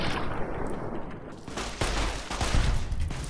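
Rapid, heavy bursts of gunfire in the game Fallout: New Vegas, including 9mm pistol shots, with dense, booming reports that overlap into a loud, continuous barrage.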